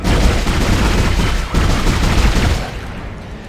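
Rapid gunfire from weapons in the Dead Space game, a loud dense volley of shots in quick succession that tapers off near the end.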